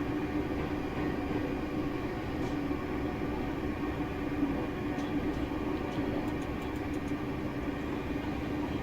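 Class 385 electric train running in a driving simulator, a steady continuous rumble and hum of motors and wheels with faint rail clicks, close and unbroken throughout.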